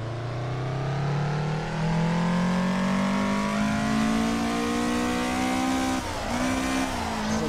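A drift car's engine in Assetto Corsa on Xbox One revs steadily higher in a long sustained pull, loud and close, then briefly dips as the clutch is kicked before climbing again, with faint tire noise underneath.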